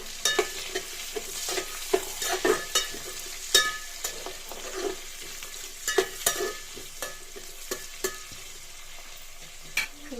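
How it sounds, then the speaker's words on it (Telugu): Carrots and green peas for spinach pulao sizzle and fry steadily in a pan, with repeated scrapes and clacks of stirring throughout; no talking. "ఇప్పుడు అవన్నీ మంచిగా ఫ్రై అవుతున్నాయి"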